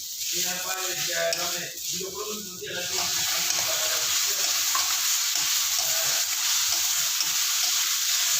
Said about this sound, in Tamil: இதோ பாருங்க நல்லா வதங்கிட்டு பாருங்க சுருங்கி.